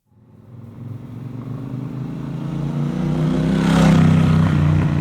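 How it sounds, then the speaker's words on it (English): A distant motorcycle passes by, its engine drone swelling gradually from faint to loud over several seconds as it approaches, with no voices present. "I like the motorcycle passing."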